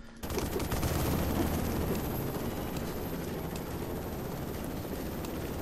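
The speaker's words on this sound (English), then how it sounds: "Oh, those bullets." Dense, sustained gunfire from the Black Mesa video game, a continuous roar of rapid shots with an aircraft-like rumble beneath, steady and loud from start to finish.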